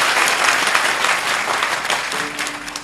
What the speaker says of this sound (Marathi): एकदा टाळ्या तर वाजवा.